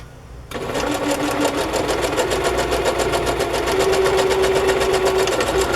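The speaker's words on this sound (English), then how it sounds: "I'm going to do another line of stitching" A sewing machine stitches a continuous line along a fabric tag, starting abruptly after a brief quiet moment and then running at a fast, even, close, loud rhythm to the end.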